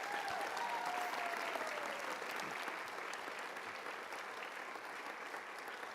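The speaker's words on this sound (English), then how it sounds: "Let's give everybody a round of applause" A crowd at a school district's Teacher of the Year awards ceremony claps, loud at first and easing slightly, with a brief whistle near the start.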